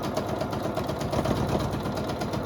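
A sewing machine runs steadily at a fast, even stitching rhythm, close and continuous with no voices, its motor humming under the rapid needle clatter.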